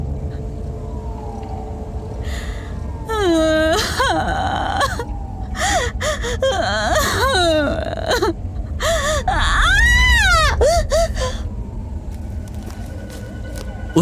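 A woman sobs in a scary story about a witch in a jungle: wavering, rising-and-falling whimpering cries and gasps, close and loud, layered over a steady low rumbling background drone.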